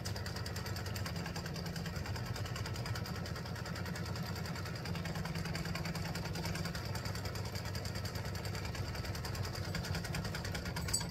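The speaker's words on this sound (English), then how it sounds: "I put in my variegated thread, and it's just going to stitch a narrow open zigzag on here" Sewing machine stitching a narrow open zigzag in variegated thread on felt, a continuous rapid mechanical whir with steady rhythmic ticking, close and alone with no talk.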